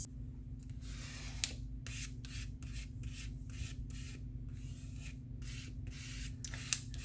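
Paper being burnished down onto a piece of vintage artwork by hand, a soft rubbing and rasping in short repeated strokes, close and quiet over a steady low hum.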